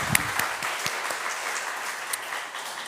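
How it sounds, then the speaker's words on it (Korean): A church congregation at a Sunday morning service claps together in thanks, a fairly quiet, even patter of many hands, with a few sharper claps standing out. "이 시간 다시 한 번 더 우리 모두가 하나님 앞에 감사와 영광의 박수를 올려드리겠습니다"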